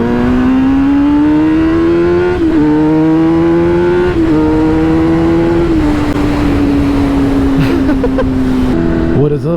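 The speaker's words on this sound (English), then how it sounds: "Should we get a little bit of some exhaust music?" Kawasaki ZX10R motorcycle engine droning loudly and steadily on the street, its pitch climbing in a few stepped revs before holding a sustained high note, close and continuous throughout.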